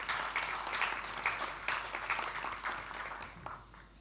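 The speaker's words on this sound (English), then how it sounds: "Let's give her a round of applause." Conference plenary audience applauding a speaker walking onto the stage, a moderate, steady wash of clapping that gradually thins out toward the end.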